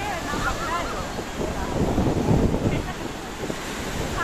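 Sea waves breaking on Srivardhan beach, a rushing surf wash swelling in the middle and easing off, with wind buffeting the microphone and voices faintly in the background.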